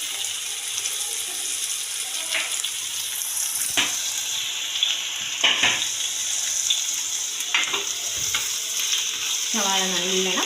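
Sliced onions sauté in hot oil over low heat, giving a constant close sizzle with occasional stirring strokes and a short squeaky, tonal scrape at the very end.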